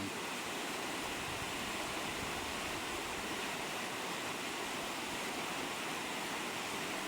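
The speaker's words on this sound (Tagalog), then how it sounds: "lumalakas ang tubig, umaapaw ang ilog" A swollen river in flood rushes past in a continuous, dense roar of water, steady and unbroken throughout.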